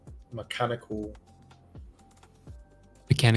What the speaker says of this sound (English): Who's the person in the background typing? Who's typing that angry?